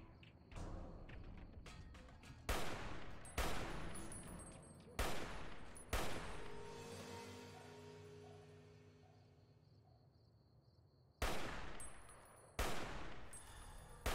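Battle rifle fire in the video game Fallout: New Vegas, heard as loud, sharp single shots and quick pairs spread out with gaps between them, each one trailing a ringing decay.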